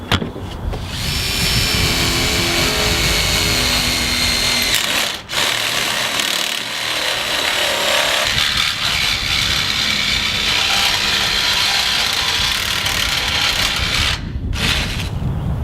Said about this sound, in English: we're going to drill through this end wall, through the ridge beam, and down through the hoop